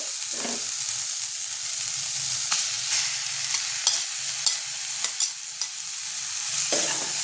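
Fish oil sizzles as it is added to fried onion, potato and garlic in a pan, with steady frying hiss and repeated sharp stirring scrapes, close and without talk.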